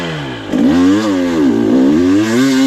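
Dirt bike engine revving hard while climbing a steep hill at a mounds hill climb training session, loud and close, with the pitch rising and falling through repeated throttle surges.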